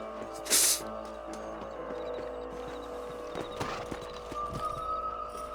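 Horse hooves clip-clop in the video game Red Dead Redemption, a steady rhythmic patter of hoofbeats over a low ambient hum, with a brief loud burst near the start and no speech.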